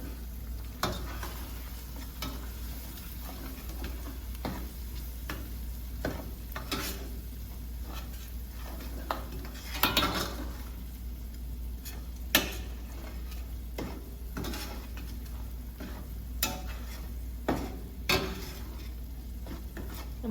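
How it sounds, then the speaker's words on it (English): A spoon stirs seasonings into tomato paste, onions and oil cooking in a pot for plant-based jollof rice, steady sizzling under scattered scrapes and clinks of the utensil against the pot, close and without talk. "I'm gonna go ahead and mix all of those seasonings in"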